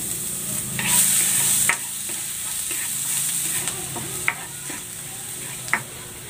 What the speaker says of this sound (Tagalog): Igigisa ko na tong bawang.